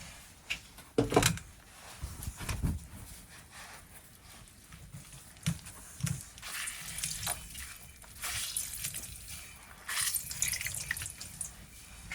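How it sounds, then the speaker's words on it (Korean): A block of tofu is squeezed by hand to press out its water, giving wet squelches and trickling drips in a home kitchen, with intermittent splashy bursts. "두부 한모을 넣고 물기를 꽉 짜주겠습니다."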